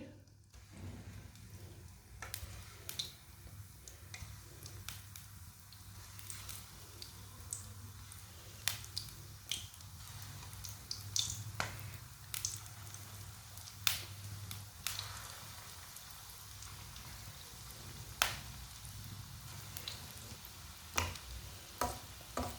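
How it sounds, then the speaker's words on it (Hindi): Aloo ke balls, small potato snacks coated in bread, dropped one by one into hot oil, giving a steady soft sizzle with scattered crackles and pops throughout, fairly quiet and close, with no talking. "ऑयल को अच्छी तरह गर्म कर लिया। अब एक एक करके स्नैक डाल लेंगे।"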